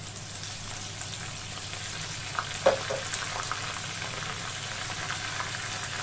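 Green chili paste hits onions frying in oil for a mutton yakhni pulao, giving a steady, soft sizzle with a brief stir or clink partway through, no voices.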